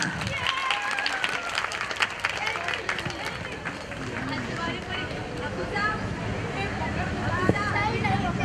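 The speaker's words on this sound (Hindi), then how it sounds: "तो तालियां" Audience clapping at a community certificate and award ceremony in a hall, a dense, steady patter of many hands mixed with crowd murmur and voices throughout.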